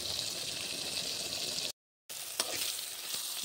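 Dried fish (shutki) fries in a hot pan, giving a steady, close, bright sizzle with a few stirring clicks and a brief dropout midway, no voices.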